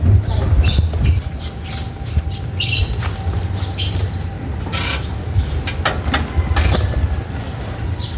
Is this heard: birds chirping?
yes